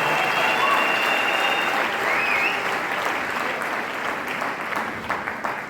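Loud, sustained applause from a large concert audience at a university campus gospel event, welcoming a pastor onto the stage; dense clapping holds steady throughout and tapers slightly near the end.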